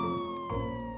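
Roblox police car siren, a sustained steady electronic siren tone holding throughout, loud and close with no voices over it.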